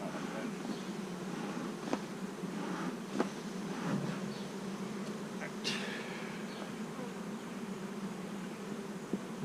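Honeybees buzzing around an open hive during an inspection, a continuous soft outdoor hum of many bees with occasional closer passes and faint handling clicks.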